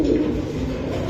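Domestic pigeons kept for sale coo in a short, low, throaty murmur that sits close and steady, with no voices over it.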